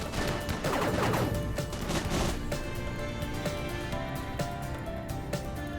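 Heavy bursts of video game gunfire, dense and rapid like a fusillade, loudest in the first half and thinning to scattered sharp shots, with no voices.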